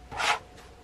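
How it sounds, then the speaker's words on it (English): A single short swish of a rotary cutter rolling through fabric along a ruler, one quick close stroke lasting a fraction of a second. "I am going to use my rotary cutter and my little ruler for this"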